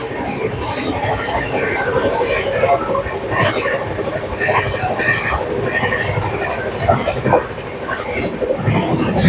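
The Howrah–New Delhi Poorva Express rumbles and clatters steadily along, with metallic rail noise and a busy crowd murmuring throughout, as it pulls into platform 1 at Bardhaman Junction.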